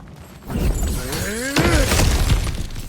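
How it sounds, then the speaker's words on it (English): Crashing and shattering as objects are smashed through in God of War Ragnarok, a loud breaking burst near the start followed by a second impact and a lingering rumbling game score, with a brief voice underneath. "back to smashing through things for fun and profit"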